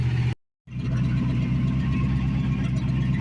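A car engine with no exhaust fitted roars at a fast idle, loud and raw with no muffling, close by, after a brief moment of silence.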